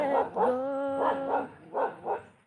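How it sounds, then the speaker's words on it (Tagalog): A dog barks several times in quick bursts, with a drawn-out whining yelp in between, close and fairly loud. "May nakitang tao yung aso, tinatahol."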